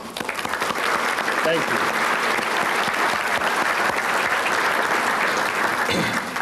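A large audience at a 1997 youth sports volunteer recognition event applauds loudly and steadily for several seconds, a dense wash of clapping, while a voice briefly speaks over it.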